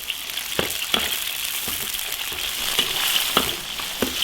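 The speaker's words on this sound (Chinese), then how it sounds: "多烧点油， 把香料下进去，葱姜洋葱、芹菜，把它的香味炸出来。" Spices, scallion, ginger, onion and celery frying in a generous amount of hot oil for boiled fish, with a steady dense sizzle and occasional sharp pops and spatters throughout, close and continuous.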